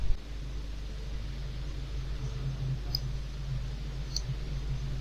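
Two soft, isolated computer mouse clicks, about a second apart, sound over a steady low electrical hum.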